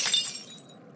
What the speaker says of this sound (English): That's what I get for smashing Mr. Potato Head's glass.